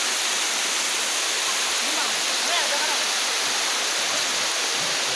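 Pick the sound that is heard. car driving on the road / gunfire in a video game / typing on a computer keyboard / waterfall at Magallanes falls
waterfall at Magallanes falls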